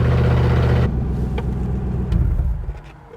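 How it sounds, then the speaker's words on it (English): Modified Toyota Hilux engine pulling a trailer: a loud, close engine roar that cuts off abruptly, leaving a lower rumbling run with a few knocks and clunks before easing down toward the end. "This accelerates better with the trailer than it did empty with the stock engine."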